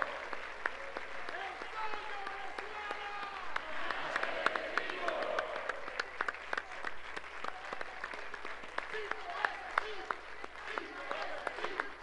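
Steady applause fills a forum hall as the audience thanks ambassador Samuel Moncada, a continuous wash of many hands clapping, with voices talking over and under it throughout.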